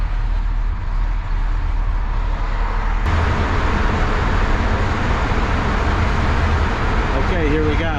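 Steady, loud road traffic roars inside the Fort Pitt tunnels in Pittsburgh, heard from a traveling RV, with a continuous broadband rumble that swells partway through and a brief whine near the end.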